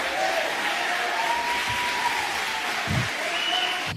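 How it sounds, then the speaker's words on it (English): An audience applauds a student's speech at a school district meeting, steady sustained clapping from a crowd filling the room throughout, with faint voices beneath. "He deserves an applause."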